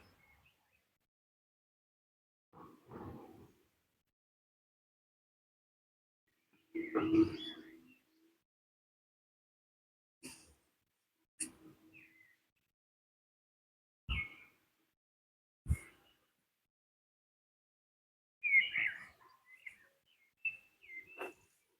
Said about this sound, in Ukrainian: Отака гарна зелена вулиця, і отак тут співають птахи.